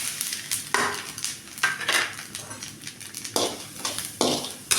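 Whole spices (dried red chillies, cinnamon, cumin, pepper, fenugreek) and coconut stirred and roasting in oil in a pan: repeated scraping spoon strokes over a soft, steady sizzle, close by, with no talking.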